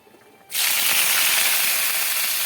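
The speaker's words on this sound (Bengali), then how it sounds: "এবারে জল ছেঁকে নিয়ে আমি দিয়ে দেবো কড়ায়।" Drained radish greens hitting hot oil in a kadai with black cumin and dried chilli burst into a sudden loud sizzle that holds steady and bright after a quiet start.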